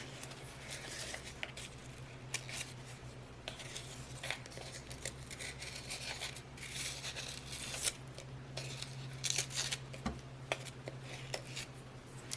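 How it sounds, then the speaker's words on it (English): Napkin paper tears and crinkles close up while being pulled downward off a jewelry container, a run of brief rustling rips over faint background hum, with no talking. "I'm going to go ahead and just kind of tear this off as well. Just pulling it downwards."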